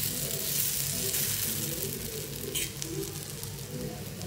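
Flattened pieces frying in a little oil at home, a steady close sizzle throughout with brief stirring scrapes, someone talking faintly over it.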